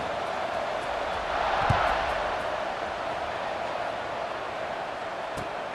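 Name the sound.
stadium crowd in video game EA Sports College Football 26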